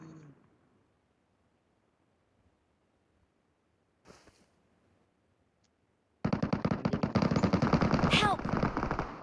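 Gunfire in the Metro Royale mode of a battle-royale shooter: after mostly quiet seconds and one short burst, loud, sustained automatic fire rattles close by until the end.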